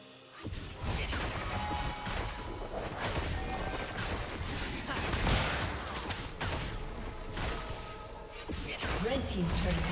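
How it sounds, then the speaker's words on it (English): Turret destruction in a League of Legends match: a loud crash and crumbling impact amid busy game effects, whooshes and clashes, with an announcer voice over the action. "Red team's turret has been destroyed."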